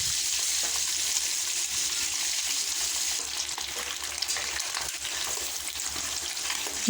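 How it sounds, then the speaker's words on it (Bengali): Eggs frying in oil in a wok, a close, even hiss and crackle of sizzling oil that holds steady without talk. "তেল একটু হালকা গরম হয়ে গেলে তারপরে ডিমগুলো দিয়ে হালকা করে ভেজে নিতে হবে"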